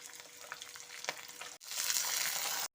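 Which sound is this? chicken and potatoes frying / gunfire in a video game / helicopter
chicken and potatoes frying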